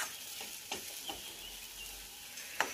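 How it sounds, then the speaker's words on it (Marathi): Upma cooking over a low gas flame, a faint, soft sizzle with a few quiet scrapes of a spoon stirring it in the pan. "आता थोडा मंद गॅसवर आपल्याला उपमा बनवायचा आहे, म्हणजे जेणेकरून खाली लागणार नाही।"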